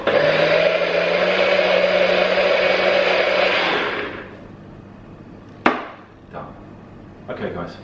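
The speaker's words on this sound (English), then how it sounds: "Blend up." A blender whirs steadily for about four seconds blending a smoothie, a loud motor drone with a whining tone, then stops, followed by a sharp knock and a few lighter clatters.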